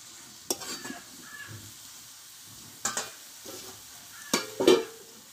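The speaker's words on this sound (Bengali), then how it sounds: "শীষ পালংগুলো দিয়ে আমি কিছুক্ষণ নাড়াচাড়া করে নিয়ে আমি এটা ঢাকা দিয়ে রেখে দেবো" Spinach with its stalks being stirred as it fries in a pan: a low steady sizzle broken by a few loud scraping and clanking spatula strokes in bursts, close up, with no talking.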